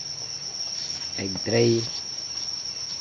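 Crickets at a cricket farm give a continuous high, shrill chirping drone that runs evenly throughout, with a voice speaking briefly near the middle.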